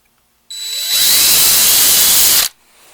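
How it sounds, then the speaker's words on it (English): An electric drill spinning an 11/64 bit to center-mark the lower hole on an OEM choke bracket of a 1968-72 Pontiac, a close two-second whine that spins up, runs steadily and cuts off, with no talking. "So you want to spin the drill just enough to center mark that location."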